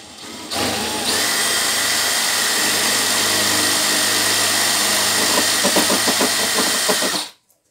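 A power drill bores a hole through a spike for a string of outdoor garden lights, a steady loud high whine that runs for several seconds with some rattling near the end before stopping abruptly.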